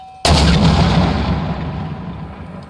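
A single heavy military weapon fires during Marine Corps infantry training, a sharp close blast followed by a long rolling boom that decays over a couple of seconds.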